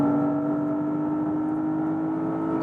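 Porsche Panamera GTS engine on a racetrack, a steady loud drone with a high whir, held at constant pitch, heard from inside the car.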